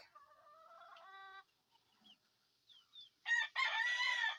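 A rooster crows in short harmonic bursts, with brief quiet gaps and faint bird sounds between, then louder, closer crowing and clucking at the end.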